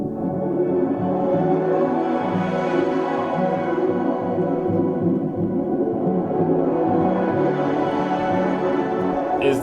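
Acoustic guitars processed by a granular fragments plugin, forming a dense, continuous wash of shimmering tones with a steady level throughout and no talking.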